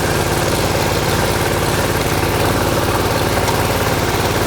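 A power trowel machine engine running steadily on concrete, loud and close, with a continuous throbbing low drone and vibration throughout.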